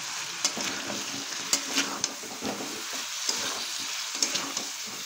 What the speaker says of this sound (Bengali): এবার পেস্ট করা মশলাটা আমি এর মধ্যে দিয়ে দিচ্ছি। দিয়ে কিছুক্ষণ কষিয়ে নেবো এভাবে।